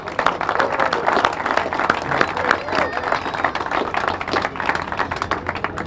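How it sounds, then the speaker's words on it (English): A crowd applauds on the opening night of the 2023 Feast of the Blessed Sacrament, loud, dense clapping that continues steadily throughout, with faint crowd murmur underneath. "Another round of applause for both of you."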